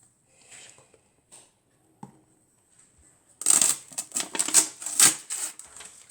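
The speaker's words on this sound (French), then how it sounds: "Je retire le papier." Paper wrapper being peeled off a can of condensed milk: quiet at first, then close, crinkly tearing and rustling bursts in the second half.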